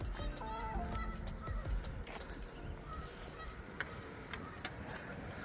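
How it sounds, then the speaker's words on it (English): Geese honk repeatedly at a distance with irregular, overlapping calls, heard faintly over low background noise near a 2022 Glastron 195 GX sport boat. "Just listen to those geese, they'll tell you."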